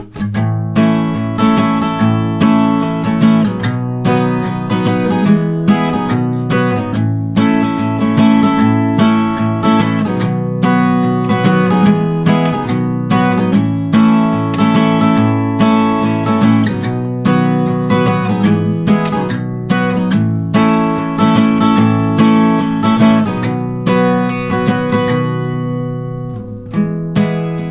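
Steady strummed chords on an acoustic guitar, a dense rhythmic pattern of down- and upstrokes running continuously and loud, with no voices.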